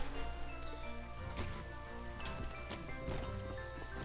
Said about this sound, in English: It's raining water, you dink